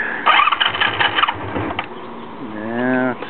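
Honda Magna V65 motorcycle engine hard starting: cranking and sputtering bursts that catch briefly, then a rising whine as the engine tries to run before fading, close and loud.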